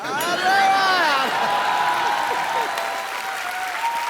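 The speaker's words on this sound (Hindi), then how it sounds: "तुम तालियां क्यों बजा रहे हो?" Steady applause from a TV comedy show studio audience with scattered whoops and voices on top, clapping continuing throughout at a moderate level.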